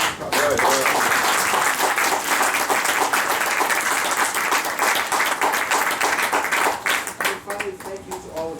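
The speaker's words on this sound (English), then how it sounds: "one last round of applause for our gracious" Sustained applause from a crowd fills the room, steady and loud for several seconds before thinning toward the end, with voices mixed in.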